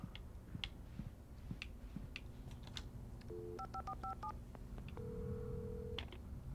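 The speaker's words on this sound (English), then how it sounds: "He was able to dial the phone without actually picking it up." A telephone being dialed in the video game Alan Wake Remastered: a run of short DTMF keypad tones, then a longer steady tone, set among faint clicks and ticks at low level with no talk.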